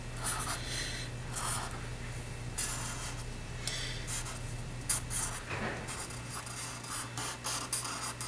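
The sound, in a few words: pencil sketching Spider-Man Miles Morales on paper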